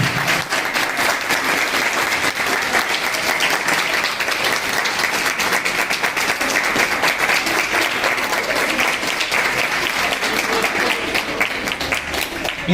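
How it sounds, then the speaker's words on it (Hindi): An audience at a school speech competition honouring Savitribai Phule breaks into sustained, dense applause, many hands clapping steadily and evenly throughout, with faint voices beneath. "इतनी तालियां की शिक्षा के लिए नहीं बजी, इतनी आंटी के लिए बजी हैं।"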